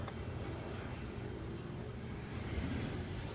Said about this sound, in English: I can hear something. Sounds like a Learjet.